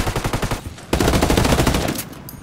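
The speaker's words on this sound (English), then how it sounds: "Under heavy fire." Heavy gunfire in the Ghost War video game: rapid automatic bursts, a pulsing volley followed by a louder sustained stream of shots, close and intense, with no talk.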